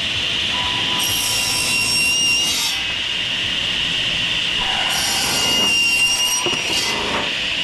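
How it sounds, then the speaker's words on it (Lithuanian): Hand saw cutting a wooden frame piece during construction of a production building, with bursts of strokes in two separate spells and a steady background hiss between them, fairly close. "ir pjaunu tiek, kiek man reikia."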